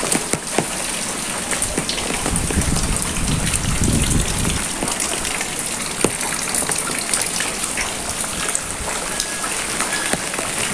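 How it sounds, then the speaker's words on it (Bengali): On a breezy morning, fine drizzle falls among mango trees, making a continuous soft hiss of rain with scattered sharper drip ticks and a brief fuller gush early on. "গুড়ি গুড়ি বৃষ্টি পড়ছে।"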